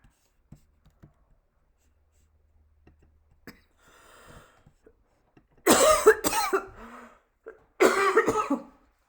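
Soft rustling and light tapping, then two loud, harsh coughing bursts close by, separated by a short pause.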